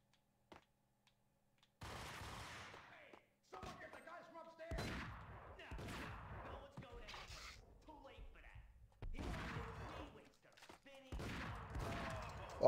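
Gunfire in the Max Payne video game comes in several loud bursts separated by short pauses, with someone talking between and over the shots.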